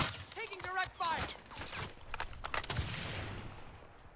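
Video game gunfire crackles in scattered bursts amid game sound effects, fairly faint, with voices calling out over team chat.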